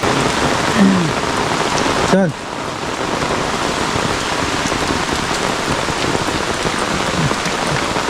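Steady, dense downpour of heavy monsoon rain in a Konkan village hissing on surfaces throughout, with a brief voice speaking once partway through.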